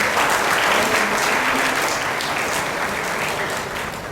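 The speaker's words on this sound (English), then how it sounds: "a big round of applause for these again." Big round of applause at an annual prize night for top-ranking coaching students, a loud, dense and continuous wash of crowd clapping that eases slightly toward the end.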